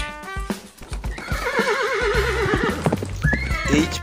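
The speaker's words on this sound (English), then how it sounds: "H for horse." A horse lets out a long, quavering neigh, loud and near, with faint hoof clip-clops and light music around it.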